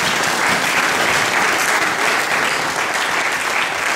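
A church congregation claps loudly and steadily in praise during a worship service, dense close applause sustained without a break.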